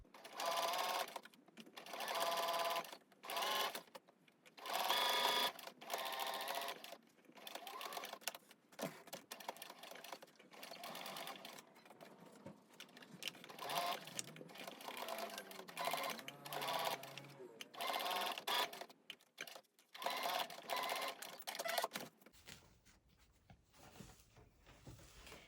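A sewing machine stitches along the edge of a fabric face mask, its fast mechanical whirring coming in repeated bursts of several seconds separated by short pauses, close and fairly quiet, with a voice talking briefly near the end.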